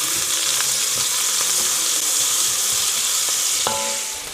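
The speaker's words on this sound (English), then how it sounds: "So I already have to start cooking the beans now" Beans sizzle and fry steadily in a pan, a loud, dense crackle throughout with a few light clinks of utensils stirring, no talk.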